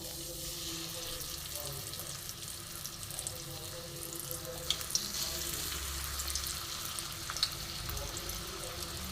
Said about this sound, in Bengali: সাদা তেল গরম হয়ে গেছে, এবার আমি আস্তে আস্তে চপগুলো ছেড়ে দেবো।